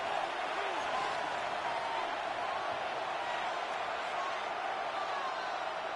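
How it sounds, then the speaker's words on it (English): Stadium crowd noise in a Madden football video game on third down, a dense, steady roar of many voices holding at an even level throughout. "This crowd into it now as we get to third down."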